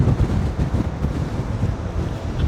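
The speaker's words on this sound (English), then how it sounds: "The wind is so strong here, it's pushing us sideways." Strong coastal wind on the Mornington Peninsula, Australia, roars steadily into the microphone, a heavy low buffeting rumble with gusts rising and falling throughout, no voices.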